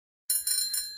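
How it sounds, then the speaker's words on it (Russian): A bicycle bell rings close and clear, a quick bright trill of two or three rapid dings lasting under a second, heard alone. "Велосипед."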